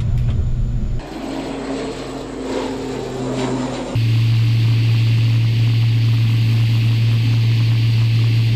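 Royal Malaysian Air Force CASA C295MW twin-turboprop transport aircraft, with a steady loud propeller and engine drone that grows louder and heavier partway through.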